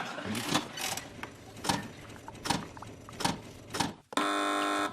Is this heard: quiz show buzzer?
yes